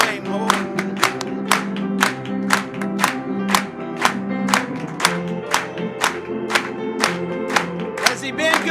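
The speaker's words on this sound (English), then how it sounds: "Clap it to him, Lord." A church congregation claps in a steady, even rhythm of about two claps per second, accompanied by organ-like sustained chords and singing voices underneath.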